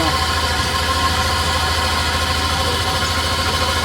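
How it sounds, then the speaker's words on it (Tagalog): A Yamaha Nmax V2 scooter engine idles steadily during an oil change, with a constant loud hum and vibration and no break. "Kasi maandar ng makina."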